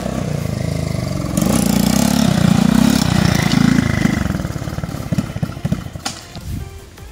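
A motorcycle engine is throttled hard at close range, a loud rough drone swelling with rapid revs and then breaking into choppier, uneven bursts as the throttle is worked.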